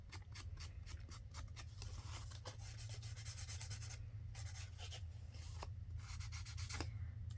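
Ink rubbed down the folded edge of a paper card for a file folder pocket flip card, heard as a quiet run of dry scratchy rubbing strokes in steady repeated passes over a low background hum.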